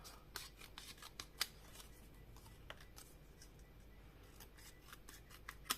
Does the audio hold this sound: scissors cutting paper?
yes